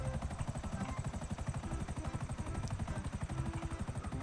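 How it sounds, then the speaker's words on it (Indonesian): Helicopter in a video game set on a One Piece-themed island, its rotor chopping in a rapid steady pulse with a dense engine whine, loud and close throughout with no talking. "Kita cuba flip guna helikopter."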